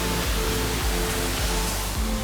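A steady, dense roar of a waterfall at Naneghat, loud and continuous with no voices.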